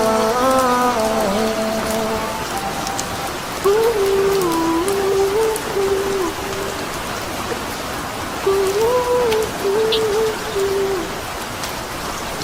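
Steady rain patters evenly throughout, with a soft melodic tune drifting over it in short phrases.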